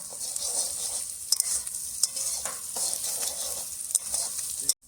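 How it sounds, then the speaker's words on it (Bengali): Salted onions sizzle in a hot pan while being stirred, with a steady frying hiss broken by scraping stirring strokes and a few sharp clicks against the pan. "এবার ভালো করে ভেজে নেবো আমরা।"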